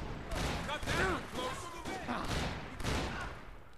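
Shotgun blasts in Max Payne 3 come in several loud bursts mixed with chaotic combat noise and voices in the background.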